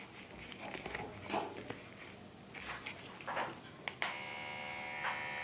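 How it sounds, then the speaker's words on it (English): A Defenderr Vector wireless permanent makeup and tattoo machine starts up with the needle stroke set at 4.2. It gives a steady, even electric buzz with a fine whine, close and moderately loud, with no talking. "Vector has minimal vibration and noise."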